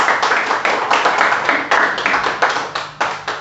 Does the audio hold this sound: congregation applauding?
yes